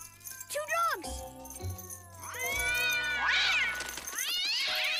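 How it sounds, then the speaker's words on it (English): Cartoon cats meowing and yowling angrily, a pair of long rising and falling cries building into loud, harsh caterwauls, over low background scoring. "Two cats! This was a bad idea."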